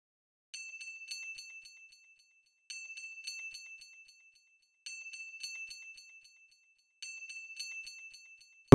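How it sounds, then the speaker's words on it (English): A bright, clean bell sample from an FL Studio Afrobeats beat plays in four short bursts of ringing tones with brief decaying tails, separated by clear silences. "bell sample right here."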